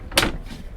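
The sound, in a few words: large storage drawer sliding in a yacht galley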